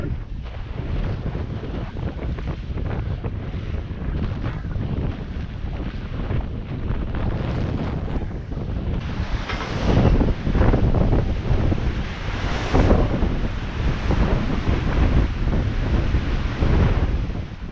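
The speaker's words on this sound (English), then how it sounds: "we're getting out into the big swell" A 42-foot former ocean-racing sailboat heading into big swell around East Cape, with steady loud wind buffeting the microphone and rushing waves and surf all around the hull. Swells build and surge heavier toward the end.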